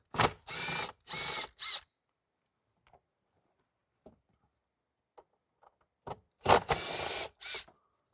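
Ratcheting and driving loose T10 bolts out of the dash of a 2010 Ferrari California: close bursts of tool whirring in two clusters, separated by a long quiet stretch with small faint clicks.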